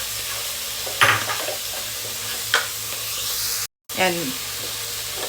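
Shrimp and tomato frying in a pan keep up a steady close sizzle, broken by a few sharp scrapes of stirring, and a short spoken word comes near the end.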